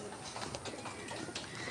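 Domestic pigeons coo softly in a brief, quiet stretch, with a few low murmuring calls rising over faint background noise.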